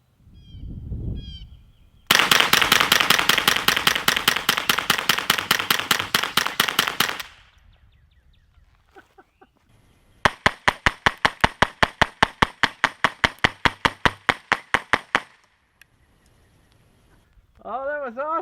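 Suppressed .22LR rifle fire from a Ruger 10/22TD, sounding as two long, rapid strings of sharp, evenly spaced cracks close by, separated by a quiet pause, with a voice heard briefly before and after.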